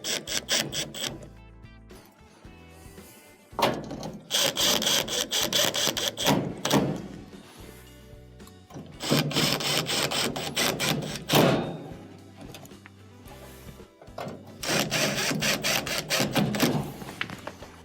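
Silver screws are driven back in to reattach the manifold of a range oven that is not heating, bursts of ratcheting, clicking mechanical turning separated by short pauses, close and fairly loud.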